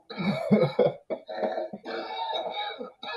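A person coughs after smoking in a rough, rattling series of several hacking coughs, close and loud, with short breaks between bursts.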